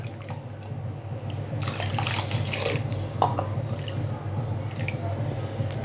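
Water pours steadily into a bowl of flour, splashing and trickling close by against a low background hum.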